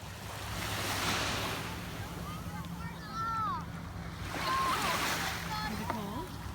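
Steady ocean surf washes onto a cold beach in Texas, a broad, continuous roar that swells and recedes, with faint voices and wind noise mixed in.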